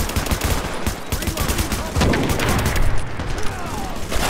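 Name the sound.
gunfire in the video game The Division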